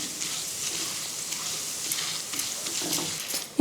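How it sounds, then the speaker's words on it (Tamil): Urad dal and chana dal frying in oil over a medium flame, a steady soft sizzling crackle holding at an even level throughout with no talking. "அதனால் நம்ம பொன்னிறமாக தான் ஃப்ரை பண்ணணும்."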